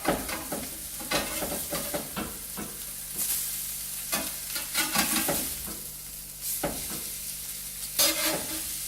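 Meat fries in a pan at an off-road campsite, a loud close sizzle broken by repeated clattering and scraping as the pieces are flipped over, the hiss surging after each turn.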